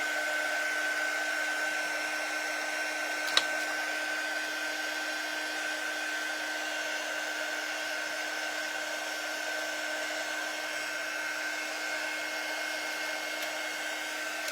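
A hair dryer drying paint on a wooden sign blows in a constant, even whine and rush at close range, with one brief click early on and no talking.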